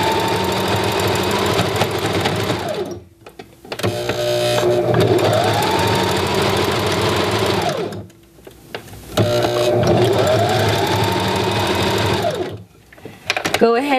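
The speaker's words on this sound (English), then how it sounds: "You want to be really steady as you guide your elastic through so that your stitches don't skip and look funky." A sewing machine stitches elastic for ruffles in loud, close, whirring bursts of rapid needle hammering, three long runs split by brief pauses, with a voice talking over part of it.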